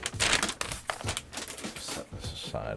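Crinkling of a plastic baggie holding a keyboard PCB for a Tiger Lite TKL build, handled close up in irregular crackly bursts and rustles over a few seconds.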